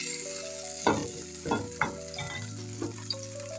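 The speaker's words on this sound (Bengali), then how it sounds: "এখন আমি সবজিগুলোকে বাটারের মধ্যে দিয়ে একটু ভেজে নিব।" Vegetables frying in butter in a pan, with a steady sizzle running under soft background music and a few brief louder bursts from stirring.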